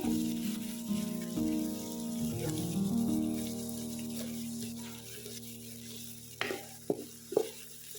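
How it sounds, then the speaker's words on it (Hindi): Onions with ginger garlic paste frying in oil in a wok, a steady close sizzle with stirring scrapes, ending in a few sharper clatters of the spoon against the pan. "इसी कढ़ाई में मैंने अदरक लहसुन का पेस्ट और प्याज डाल लिए। इनको हम अच्छे से ब्राउन करेंगे।"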